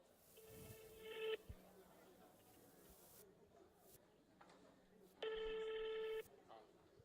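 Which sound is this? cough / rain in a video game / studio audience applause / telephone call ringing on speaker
telephone call ringing on speaker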